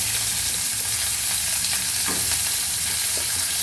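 Peeled garlic cloves and small onions frying in a pan for a pirandai kara kuzhambu, a loud continuous sizzle close by with soft scrapes of stirring and no voices.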